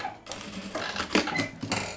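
A sewing machine runs in a brief, steady burst while topstitching a binding strip onto a basic blouse, its rapid mechanical whir close and clear.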